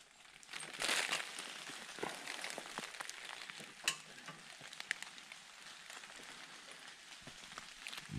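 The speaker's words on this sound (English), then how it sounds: "This rain." Steady hissing patter of rain falling on a surface, with scattered louder drops and rustling, fairly close and continuous throughout.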